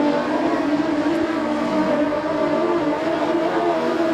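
Street stock race cars roar around a speedway at night, a loud, continuous engine drone from several cars close together, steady throughout with no pause.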